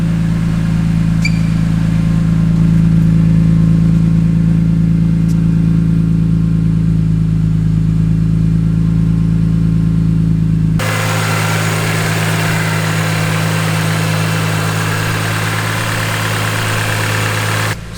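BMW E46 M3 with catless headers and an aftermarket exhaust idling steadily as it warms up, a loud, even low rumble that runs without a break and then drops to a rougher, lower tone partway through.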